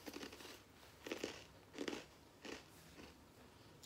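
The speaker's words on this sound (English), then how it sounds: "I like the crunch." Big, thick crunchy chips are bitten and chewed near the mic in about five distinct crunching bursts at a steady pace, faint overall and without talk.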